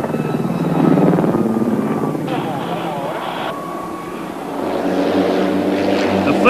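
A helicopter flying aerobatic display manoeuvres at an airshow, its engine and rotor drone rising and falling at a distance while commentators talk over it throughout.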